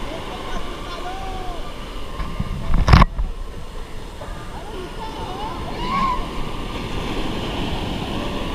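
Surf rolls onto a calm, quiet beach on the Konkan Coast, a continuous wash of waves and wind with a brief louder thump near the middle and no voices.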